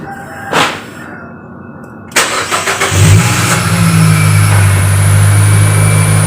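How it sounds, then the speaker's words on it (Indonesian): A 2012 Nissan Evalia XV 1.5 manual engine cranks with a few quick bursts, then catches and settles into a loud, steady idle hum close by. "Suaranya sangat berisik ya, suara mesinnya, ramuan mesinnya sangat berisik ya"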